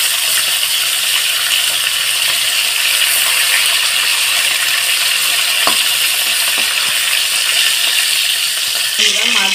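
Sona bogo fish frying in oil in a pan gives a loud, steady sizzle that runs unbroken throughout, with a brief metallic clink near the end.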